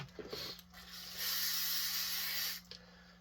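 A spray can hisses onto a saw carburetor in one steady burst of about a second and a half, close by, with a faint low hum underneath and quiet clicks before and after.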